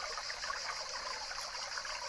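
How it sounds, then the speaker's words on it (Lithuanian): A shallow mountain stream in a Pyrenees canyon trickles and babbles steadily at close range, with a continuous bright wash of running water and no voices. "Kišam kojas į vandenį."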